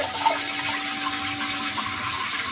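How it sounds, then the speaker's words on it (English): CANEST smart toilet doing a full flush: steady rushing, swirling water noise with a faint mechanical hum, close and continuous with no talk. "That's the full flush. It flushes really good."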